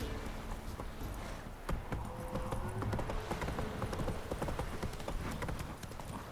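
A horse's hooves clip-clop at a steady trotting rhythm in The Witcher 3, close and continuous under faint ambient game sound.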